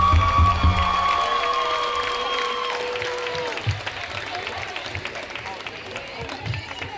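Crowd applause and cheering fill a school gym at a varsity boys basketball game honoring the seniors, steady dense clapping with scattered shouts under fading organ-like tones, continuing throughout.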